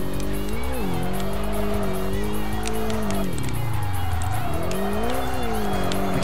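A race car in the Kaido Racer 2 video game skids under the handbrake. The engine drones loud and steady with rising and falling pitch, and sustained tire squeal runs throughout.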